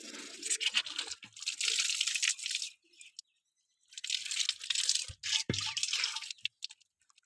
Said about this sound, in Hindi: ये जो बर्तन है ये हम भरेंगे पानी पीने के लिए।